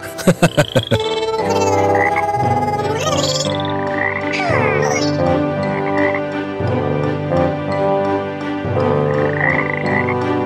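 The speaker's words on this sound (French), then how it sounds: "Ce sont des grenouilles." Frogs croaking loudly in a dense, continuous chorus of overlapping rhythmic calls, close and sustained, with a few sharp bursts at the start.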